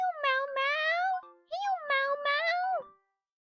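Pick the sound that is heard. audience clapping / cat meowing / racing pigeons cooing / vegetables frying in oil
cat meowing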